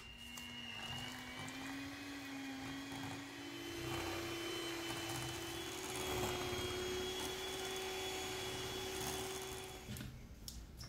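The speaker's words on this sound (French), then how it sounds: "on va venir battre le tout avec un batteur électrique pour bien monter la crème" An electric hand mixer whipping cream with vanilla sugar for a no-bake Dubai chocolate cheesecake, giving a continuous, fairly close motor whine whose pitch rises slightly and holds steady before cutting off near the end.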